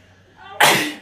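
A single sharp sneeze bursts out close by after a short inhaled build-up, loud and brief.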